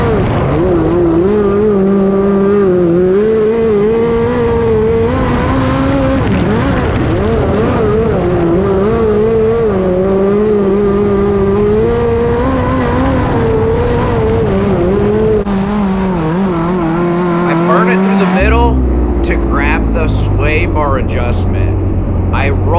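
A race car at LPS Speedway on corner entry, its engine note close and loud with a rising and falling whine as wheel speed changes, then a harsher rumbling burst near the end as it reaches the curb.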